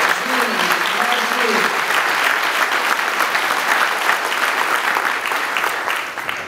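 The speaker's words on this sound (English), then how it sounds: "Can we give them a round of applause?" An award-ceremony audience claps in loud, sustained applause that fills the room and fades slightly near the end, with a brief voice audible at the start.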